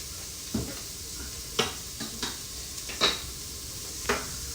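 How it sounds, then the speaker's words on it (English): Pan being deglazed with broth for chicken tinga, a steady quiet sizzle broken by several sharp scrapes and knocks of a spoon against the pan, no voices. "it's going to deglaze it. So let's go ahead and get maybe a good spoon to help scrape it up"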